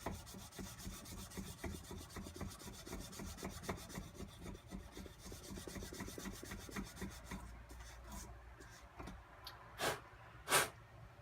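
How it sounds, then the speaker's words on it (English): Steady rhythmic rasping of sandpaper worked by hand over a knife blade, close and continuous strokes for several seconds, then slowing into a few scattered scrapes and two sharper bursts near the end. "You just got to work the sandpaper in there as best you can."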